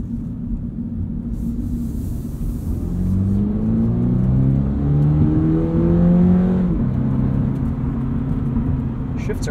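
A 2022 Toyota GR86 Premium with automatic transmission accelerating in sport mode: a loud, rising engine drone climbing through gears, with quick shifts marked by pitch drops, heard from inside the cabin.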